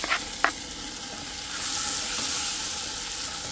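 Tomatoes go into a pan of onions and garlic frying, with a couple of quick knocks at the start and then a steady close sizzle that swells slightly and holds, with no talk.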